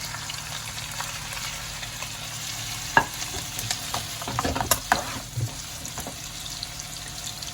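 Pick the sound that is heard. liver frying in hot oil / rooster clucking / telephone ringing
liver frying in hot oil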